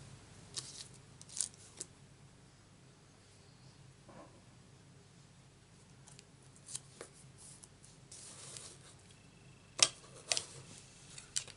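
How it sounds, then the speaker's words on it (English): Quiet, close snips of scissors cutting a small paper feather for a card-making project, with scattered soft clicks and rustles over a faint background. "And just one more feather to cut out."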